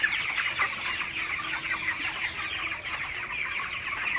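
Broiler chickens drinking water from containers in a poultry shed cluck and chirp softly in a dense, continuous chorus, a steady background of many birds with no talking.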